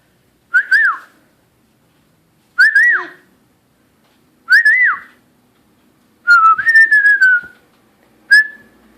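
A person whistles to a pet parrot in five short, clear, rising-and-falling phrases spaced about two seconds apart, close and alone in an otherwise quiet room.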